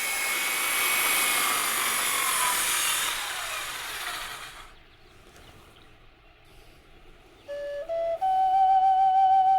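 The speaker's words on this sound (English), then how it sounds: "Even Joe occasionally swaps a chisel for an electric saw to speed up a job." An electric saw cutting wood in a carving shed, a loud broadband whine for several seconds that fades to a low idle, followed by a sudden rising tonal hum.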